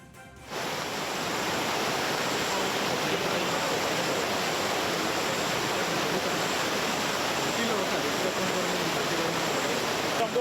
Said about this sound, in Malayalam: മട്ടന്നൂരിൽ ഒരു കനാൽ ഇടിഞ്ഞ് വെള്ളം ഒഴുകി.